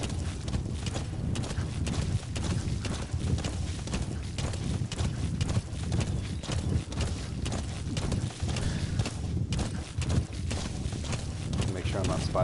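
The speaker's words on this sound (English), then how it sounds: "this horse is a little difficult to handle at times" A horse gallops across rough ground in Metal Gear Solid V, its rapid, steady hoofbeats clopping close and loud the whole time while someone talks over them.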